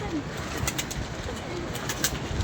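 Soft pigeon coos repeat faintly over a steady background hiss, with a few distant thin calls.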